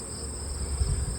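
Steady drone of gentle honey bees around a beehive in an apiary yard, a continuous close hum with a faint high whine above it, no voices.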